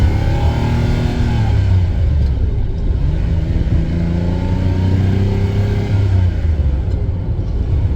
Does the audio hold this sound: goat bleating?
no